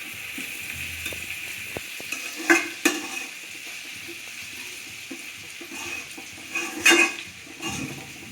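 Vegetables with chopped green chillies and soy sauce stir-frying for Chinese chicken fried rice on high heat, a continuous sizzle punctuated by loud scraping clanks of a utensil against the pan.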